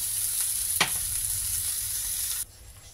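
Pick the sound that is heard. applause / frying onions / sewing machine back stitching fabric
frying onions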